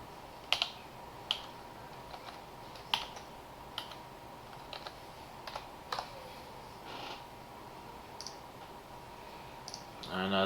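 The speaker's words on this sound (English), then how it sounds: "All you gotta do is type in that password." A password being typed on a computer keyboard, scattered crisp key clicks at an unhurried pace over a low steady background hum, with no voices.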